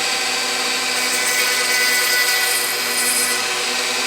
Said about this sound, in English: I'll start with the drill bit and then go back with the sander